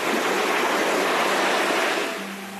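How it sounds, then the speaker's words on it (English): Surf washes steadily onto a sandy, shell-strewn Caspian Sea beach in Kazakhstan, a loud, continuous hiss of breaking water that eases slightly near the end. "it's a beautiful place to walk and enjoy the sounds of the surf"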